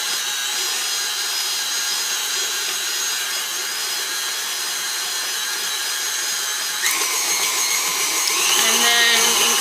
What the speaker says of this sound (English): After we plug in the mixer. Start it out on low.